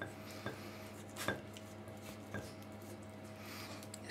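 Knife strokes cut through raw chicken on a board, a few soft, sharp taps and slicing scrapes at irregular intervals over a low background hum.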